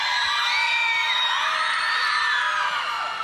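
Female fans at a singing competition final scream and cheer continuously, a dense high-pitched wall of shrieking voices filling the space, loud and sustained throughout.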